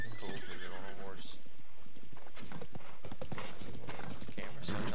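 Horses in Zelda: Breath of the Wild whinny and neigh while hooves clip-clop in a rapid, uneven rhythm, loud and near, mixed with game effects and someone talking over them.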